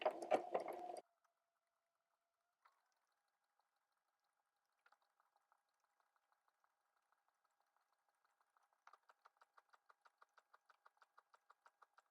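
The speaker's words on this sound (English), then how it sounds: "So you want to do a test run to make sure your machine, what way your machine goes." A sewing machine stitches a shirt buttonhole slowly, a short burst of noise at the start followed by sparse quiet clicks and then a steady run of faint rhythmic stitch ticks.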